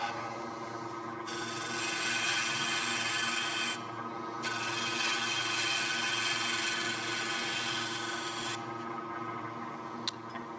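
A bowl gouge cuts a bead into spinning poplar on a wood lathe, a steady loud rasping hiss that breaks off briefly twice, with the lathe hum running underneath throughout.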